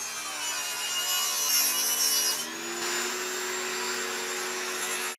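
Salvaged wood molding being trimmed with a power tool, a steady, loud whining buzz that holds for about five seconds, changing pitch partway through before cutting off abruptly.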